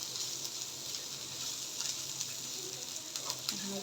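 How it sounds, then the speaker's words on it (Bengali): Onions fry in a pan in a home kitchen, a quiet, even hiss and crackle that holds steady throughout, with a faint knock near the end. "পেঁয়াজটা ভাজা হতে থাক বেশি সময় লাগবে না"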